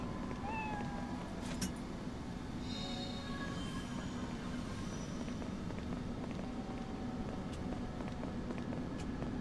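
A cat meows a few times in the video game Lost Odyssey, brief high mews on an armored train, heard over a loud steady rumbling rail background.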